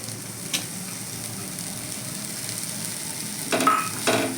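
Bengali-style lote fish jhuri being stirred with chopped coriander in a pan on a gas stove, giving a soft steady sizzle with occasional scraping stirs that grow louder toward the end.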